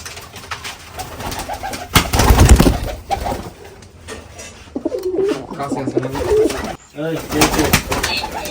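Pigeons coo at a pigeon farm, repeated soft throaty calls from nearby birds with a burst of wing flapping, while people talk over them.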